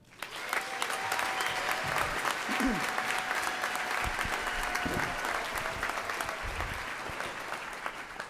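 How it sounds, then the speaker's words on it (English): Graduation ceremony audience applauds faculty and staff, a steady wash of clapping from a large crowd in a hall, moderately faint, with a few faint voices and a tone underneath. "let's give a round of applause for our faculty and our staff"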